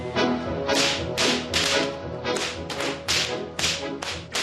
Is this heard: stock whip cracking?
yes